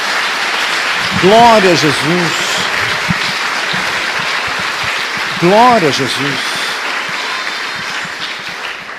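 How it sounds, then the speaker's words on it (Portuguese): Steady applause from a church congregation fills the space, with a voice calling out twice over the dense clapping. "Dê uma salva de palmas a Jesus."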